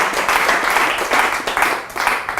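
An audience gives a round of applause for Daniel at a motivational speaking event in Costa Rica, a steady, dense wash of many hands clapping that fills the whole stretch without a break.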